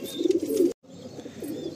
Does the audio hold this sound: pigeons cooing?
yes